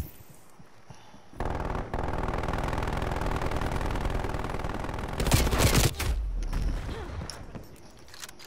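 MG 82 machine gun firing in Call of Duty Black Ops Cold War, a loud sustained automatic burst running several seconds, then a sharper louder stretch of shots and mechanical clatter before it tails off.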